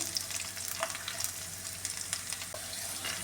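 Onions, shallots, green chillies, dried red chillies and grated coconut sauté in a pan for koorkka (Chinese potato) mezhukkupuratti, giving a continuous close sizzle broken by scraping stirs and small pops, with no voices.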